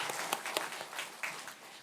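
Faint applause from a congregation during a Sunday morning church service, scattered claps rising and fading over a couple of seconds, heard at a distance.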